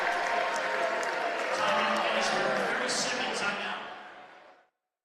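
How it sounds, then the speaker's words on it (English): Sold-out crowd at a Swarthmore College men's basketball game against Gettysburg in the Tarbell Pavilion arena, a loud sustained roar of cheering and applause that fills the space, then fades out at the end. "the Tarbell Center is rocking this sold-out crowd"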